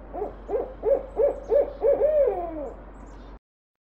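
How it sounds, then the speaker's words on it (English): An owl hoots in a steady run of about six evenly spaced calls, ending in a longer wavering note. The calls are clear and fairly close, with nothing else heard. "owl"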